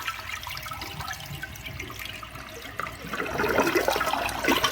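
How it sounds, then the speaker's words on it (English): A 1.6-gallon one-piece Eljer Canterbury toilet from the 1990s–2000s with large front rim jets flushes, a close rushing wash of water that swells louder toward the end, with no voices. "It's definitely a very interesting flush overall, for better or for worse."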